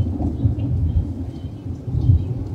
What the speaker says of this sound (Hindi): बादल गरज रहे हैं, बारिश हो रही ना यहाँ पर